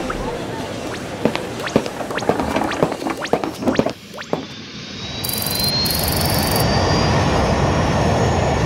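Cartoon airplane engines during boarding for a Ryanair flight: clacking transient knocks at first, then a loud steady jet-like roar with a rising whine builds and holds to the end.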